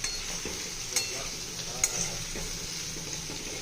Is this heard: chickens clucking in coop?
no